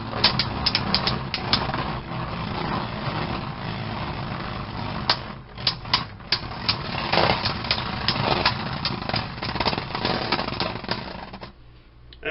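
A Beyblade Galaxy Zeutron spinning top battles in a stadium, with a continuous loud whirring, grinding rattle and sharp repeated clacks as the tops collide, then fading toward the end.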